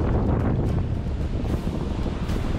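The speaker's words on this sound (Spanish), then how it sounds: "Olas de 2 metros a 3 metros y medio." Wind buffeting the microphone and sea waves washing past a sailboat running downwind with wing-on-wing sails in two- to three-and-a-half-metre swells off Galicia, a continuous loud roar with irregular gusts.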